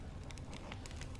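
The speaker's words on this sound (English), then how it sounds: "only when I look at this vibrant red fire" A vibrant red fire crackles in a video game set in rainy Penacony: a steady, dense hiss with scattered soft snaps and pops, moderately quiet and continuous, with no voices.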